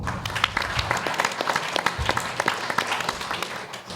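Crowd at a venture capital panel event breaks into steady applause, many hands clapping together in a dense, even wash with a few louder claps near the front.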